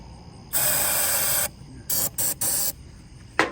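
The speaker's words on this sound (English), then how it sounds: "get this carb cleaner, spray it in there" Several hissing carburetor cleaner spray bursts into the intake of a barn-find Farmall 140 tractor, one long blast followed by three short ones, then a brief clunk at the end.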